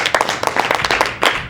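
Audience at a 2016 Pearl City playoffs improv show bursts into dense, lively applause, many hands clapping close together in a steady roar that swells again near the end.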